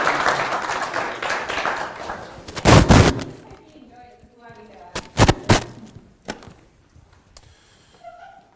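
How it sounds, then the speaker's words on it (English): A conference audience applauds, a broad wash of clapping that fades out over the first few seconds before sharp loud bursts return, with speech in between. "I just want to say thank you, so a round of applause again."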